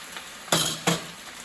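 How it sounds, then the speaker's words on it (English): Garden greens stirred in a frying pan: two distinct bursts of sizzling scrape as the greens are turned, over a low steady background hiss, no talking. "Stir them greens up a little bit."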